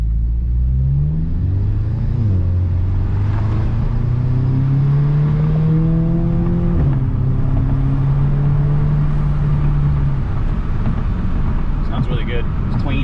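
Audi S3 fitted with a Top Gear Tuning downpipe, in sport mode with exhaust valves open, revs up in a rising engine note that climbs in steps, holds, then drops off before settling, with a voice talking over it.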